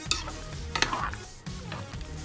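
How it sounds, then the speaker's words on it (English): Pasta stirred and mixed in a pan with steady sizzling, scraping strokes and a few clinks of utensil on metal, close and fairly quiet. "I'm going to mix this up"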